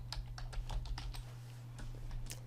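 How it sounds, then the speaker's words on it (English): Typing on a computer keyboard: a quick run of light key clicks, then a short pause and a few more taps, faint and close over a steady low electrical hum. "Just type Silver Springs."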